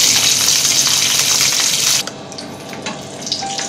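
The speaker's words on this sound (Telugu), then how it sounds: "బట్ తాలింపు వేస్తే కొంచెం టేస్ట్ ఉంటుంది కాబట్టి తాలింపు కూడా యాడ్ చేసుకుంటున్నాం" Tempering spluttering in hot oil for ridge gourd peel chutney, a loud, steady hiss that cuts off abruptly, leaving faint crackles and small clinks.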